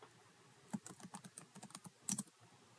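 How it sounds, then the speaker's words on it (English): Typing on a computer keyboard, a quiet run of irregular key clicks with a brief louder flurry near the end, heard alone without talk. "I'm going to type in the customer's name"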